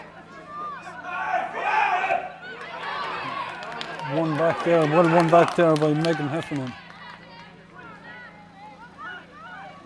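Spectators cheer and shout in the stand at an under-21 ladies Gaelic football match in Tipperary, rising in excited bursts while a commentator talks over the noise.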